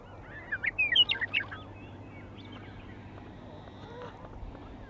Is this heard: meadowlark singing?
yes